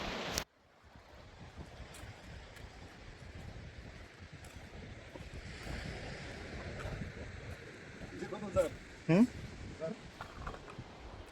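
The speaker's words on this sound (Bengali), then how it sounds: "কি তর্জন গর্জন সমুদ্রের?" Sea surf on the coast at Hatia, Noakhali, gives a steady, broad roar mixed with wind buffeting the microphone, with faint voices and a few brief knocks near the end.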